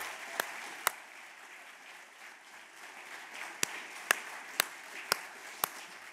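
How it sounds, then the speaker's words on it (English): Scattered, sparse hand claps from an audience at a school award ceremony: about eight sharp, isolated claps spread over a steady hiss, rather than a full ovation. "Let's give them a round of applause."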